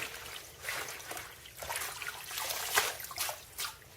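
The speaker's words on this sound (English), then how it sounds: "take your bigger ones and make them smaller, rinse them good" Collard greens are rinsed in water, with soft trickling and light splashing in irregular bursts that stay quiet and close.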